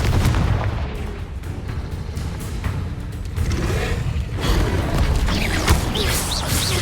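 Confringo explosive spell in the video game Hogwarts Legacy, heard as a dense barrage of booming blasts and crashes over rumbling combat noise, loud and continuous with sharp impacts throughout.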